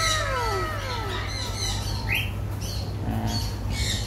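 Pet birds at a petting zoo animal garden in Selangor let out sharp squawks and chirps over a steady low background hum, the calls close and irregular.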